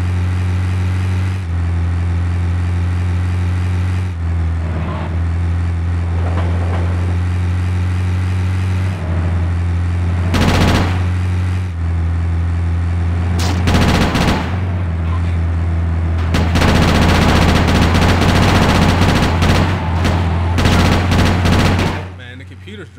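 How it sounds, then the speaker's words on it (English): Gunfire from a street shootout in GTA Chinatown Wars, loud and continuous over a steady low game drone, with dense bursts that build toward the end. "They shooting."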